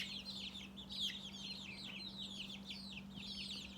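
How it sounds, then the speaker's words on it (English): Chickens, including Easter Eggers, Black Copper Marans and baby chicks, cluck and peep softly and continuously inside a small kit chicken coop, faint and somewhat distant over a steady electrical hum, with no talking. "We got 10 little baby chicks in there right now"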